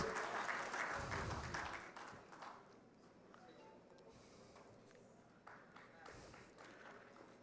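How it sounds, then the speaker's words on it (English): An audience at a golden jubilee inaugural event applauds, the clapping strongest at first and then thinning to scattered claps beneath faint talk. "Please give a big round for applause for Dinesh Banjara sir."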